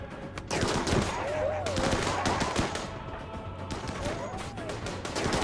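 Rapid video-game gunfire as players shoot out a wall, dense bursts of automatic fire and impacts sounding continuously, with game effects layered underneath.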